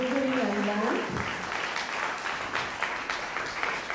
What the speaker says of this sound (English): a huge round of applause to both Wilbury and Land